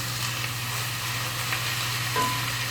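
Chili ingredients cooking and browning in a pot, a steady quiet sizzle that holds evenly with a faint stir near the end.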